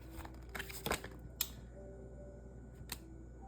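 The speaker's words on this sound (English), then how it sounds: "I just barely started shuffling." Playing cards are shuffled close by in a quiet room, a few short riffling bursts and soft taps spaced apart at low volume, with no talk.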